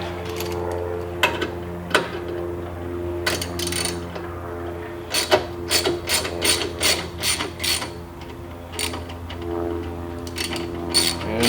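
A hand ratchet tightens bolts on a Jeep Wrangler JL off-road light mount, giving short bursts of rapid close clicking separated by pauses, over a low steady hum.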